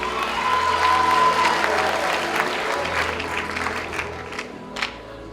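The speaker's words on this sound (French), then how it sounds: "On les applaudit très très fort." A young talent awards ceremony audience applauds loudly, dense clapping filling the room and then slowly thinning toward the end, with faint crowd voices mixed in.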